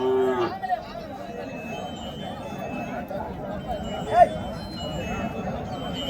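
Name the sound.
native cows and calves at Matrapalli cattle market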